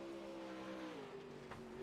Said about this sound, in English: You can hear that engine just absolutely screaming right now.